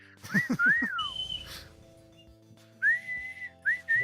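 A person whistles in imitation of some kind of bird, giving quick rising chirps followed by longer sliding whistled notes, close and fairly loud, with pauses between phrases.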